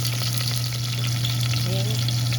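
Curry leaves and cilantro crackle in hot oil for Gujarati dal, a steady, close frying hiss with no voices, over a constant low hum.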